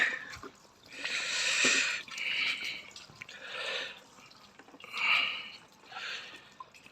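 Water flushing hard out of a Benelli BN600i motorcycle water pump while sediment is drained, a sputtering, gurgling spray that surges and eases in several pulses with no talk.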